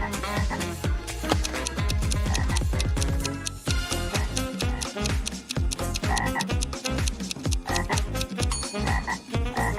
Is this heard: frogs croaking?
yes